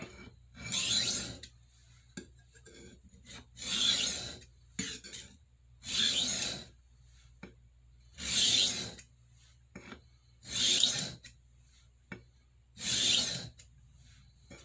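A Santoku knife is drawn across a whetstone in seven regular rasping strokes about two seconds apart, each a close, gritty scrape separated by short quiet gaps.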